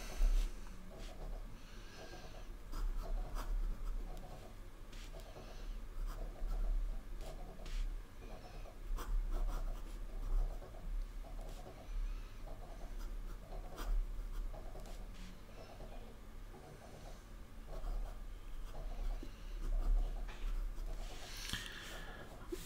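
A rigid-nib fountain pen filled with Montblanc ink scratches over paper in a long run of soft, rhythmic strokes and pauses, close and quiet, with no one talking.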